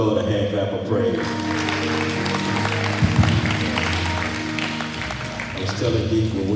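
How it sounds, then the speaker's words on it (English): A church congregation breaks into applause, hand clapping of praise that swells into a dense, close burst of claps mixed with voices and cheers. "Let's get a Lord a hand clap of praise."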